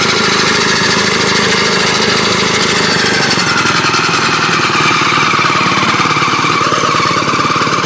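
A small homemade tractor engine, rope-started, runs at a loud, rapid, rough knocking idle, steady and close with no pauses.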